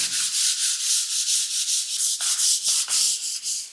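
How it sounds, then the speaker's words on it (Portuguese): Rough, rhythmic scraping of 150-grit sandpaper rubbed by hand back and forth on a wall, steady strokes about three per second, close and loud with no voices. "você vai pegar uma lixa de parede, tipo essa aqui, ó, 150, e vem e aí faz o acabamento"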